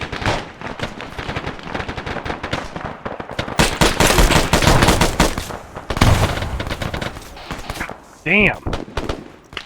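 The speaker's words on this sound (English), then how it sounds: "they're shooting grenades like a motherfucker" Dense automatic gunfire and grenade blasts crackle through an Arma 3 military firefight, loud and near with rapid bursts and heavy booms, as a man briefly exclaims over the shooting.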